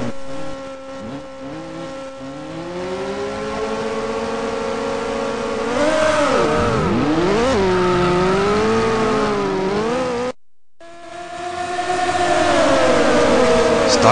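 Race cars launching from the start at Österreichring in a racing video game, a pack of engines revving and climbing in pitch together, loud and close, with a brief cut before the roar resumes.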